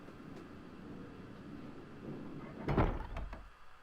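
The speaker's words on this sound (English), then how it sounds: "now we can enter this door" A heavy door opening in a Harry Potter and the Sorcerer's Stone video game, a sudden loud creaking thud followed by a few shorter knocks and scrapes after a quiet lead-in.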